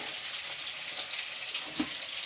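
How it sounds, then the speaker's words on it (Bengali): Three pieces of fish frying in a pan produce a soft, even hiss with faint crackles, one small clink partway through. "3 পিস মাছ ভাজা হচ্ছে"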